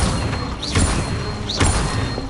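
Incendio fire spells cast in Hogwarts Legacy during a duel, two quick rising magical swooshes that flare into bursts over a steady roar of battle effects.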